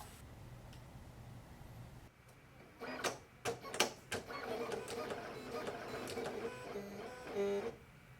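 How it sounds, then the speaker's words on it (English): A Silhouette Cameo 5 cutting machine making a test cut whirs and clicks, with a series of sharp mechanical taps followed by a steady motorized buzz as the carriage moves, fairly quiet and heard on its own. "To make a test cut, load your material into the machine and click Test."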